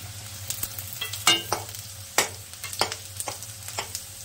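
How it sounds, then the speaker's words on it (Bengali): Chopped onion fries in a pan with potato close by, sizzling steadily while a spatula scrapes and taps the pan in irregular strokes, the sharper knocks standing out over the constant hiss. "পেঁয়াজটাও একটু লাল লাল করে ভাজবো"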